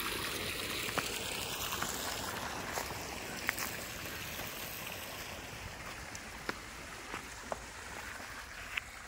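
Water from a deep tubewell gushes through a pipe into a village pond, a steady close rushing and splashing flow with a few faint clicks over it.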